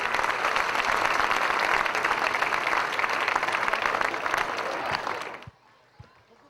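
Audience at a temple consecration ceremony applauding, dense sustained clapping that is loud and steady for several seconds before cutting off abruptly into near quiet.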